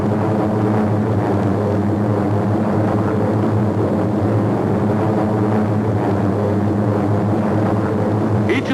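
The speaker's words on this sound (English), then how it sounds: "We're airborne and the wheels are retracted into their wing well." A four-engine propeller aircraft in flight, a steady loud droning roar with layered engine hum that holds unbroken throughout, no voices.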